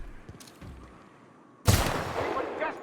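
A single sharp gunshot in a video game, a sudden loud crack with a short decaying tail, following a quiet stretch of faint game sounds.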